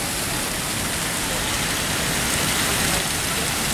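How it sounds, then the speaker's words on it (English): Steady rain falls outdoors on a Berlin street, a dense, continuous hiss of drops spattering on surfaces, loud and even throughout with no clear break. "Raining, so I'm turning it off."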